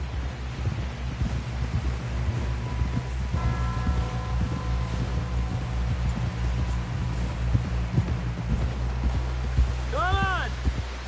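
Horse hooves clop steadily at a gallop through Red Dead Redemption 2 game audio, the rhythmic beats sitting under wind, ambient rustle and a low droning score, with a brief bird-like chirp near the end.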